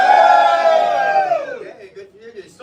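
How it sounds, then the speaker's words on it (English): A live audience in a hall cheers and whoops loudly for Star Trek, a sustained roar of voices that swells at first, then fades into scattered calls. "Give us a cheer if you're a fan of Star Trek."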